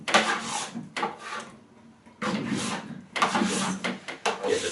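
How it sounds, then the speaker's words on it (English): A plastic scraper dragged in quick strokes along a snowboard base to strip off wax, rough rasping scrapes in close repeated bursts separated by short pauses. "Just try to scrape off all the wax."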